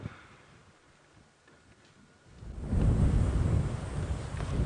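Distant thunder from lightning on an evening safari drive builds from a quiet background into a long, deep rolling rumble that swells and holds, heard alone outdoors.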